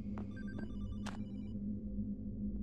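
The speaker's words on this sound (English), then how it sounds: "Not another phone call." A telephone rings in the Hollowbody tech-noir horror video game, two or three short trilling bursts over a low droning ambient hum, fairly faint and alone.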